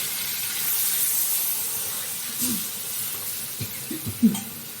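Water poured into a hot pan of cooking food bursts into a loud, steady hiss and sizzle, with a few soft clinks and stirring knocks near the end, and no voices.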